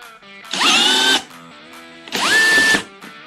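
A Scell-It Element E-007 expansion-anchor setting tool, set to 16, works an anchor in two loud, close mechanical bursts of about a second each, each one rising in pitch, with a short pause between them.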